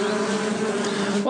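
Bees at a rural smallholding give a close, steady buzzing drone that holds evenly for about a second, with no voices over it.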